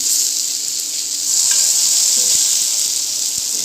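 Small cut eggplant pieces frying in a little oil, giving a steady, close sizzle that holds evenly throughout with faint stirring clicks underneath.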